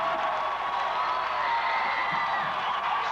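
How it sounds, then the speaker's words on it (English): A crowd at a 1992 high school boys basketball game between Thornton Academy and Biddeford applauds and cheers steadily in a gym, a dense continuous roar without any clear speech. "Both teams getting a huge round of applause."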